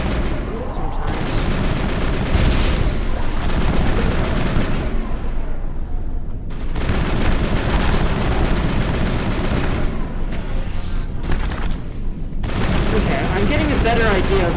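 Rapid gunfire from an overheating weapon in Mass Effect during a fight on a desert world, dense bursts of shots in long stretches separated by short pauses, loud and close, with a voice talking over parts of it.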